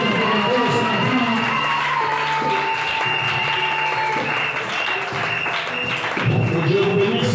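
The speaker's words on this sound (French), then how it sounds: "Acclamez très fort le Seigneur." A church congregation applauds and cheers loudly and continuously in worship, dense clapping mixed with shouts, whoops and voices, with tonal sounds running underneath.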